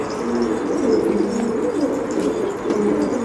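Kara Karanfilli pigeons coo in low, throaty, rolling calls, repeating steadily and close by with no talking, in İskenderun.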